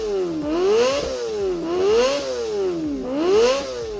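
A Kawasaki Ninja ZX25R fitted with an Unknown Omicron Gen 2 exhaust blips its throttle three times, each high-pitched rev rising sharply and dropping back, close and raspy with no voices.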